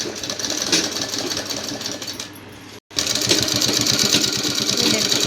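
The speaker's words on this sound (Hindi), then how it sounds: "ये देखो थोड़ी आराम से सिलाई लगानी है" A sewing machine stitches an elastic strip with a fast, steady mechanical whirr, close and loud, stopping briefly in the middle before running on again.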